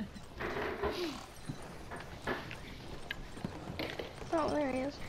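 Horse hooves clip-clopping in the Red Dead Redemption 2 video game, scattered hoofbeats alongside a tonal horse whinny near the end, with a voice talking over them.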